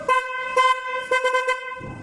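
A Toyota Fortuner's horn honks in several short bursts close by, a steady tonal blare pulsing in an uneven rhythm.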